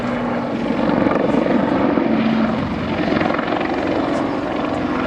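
A Westland Lynx helicopter flies an aerobatic display at RIAT 2014, its loud, continuous rotor thrum and turbine roar filling the air close overhead.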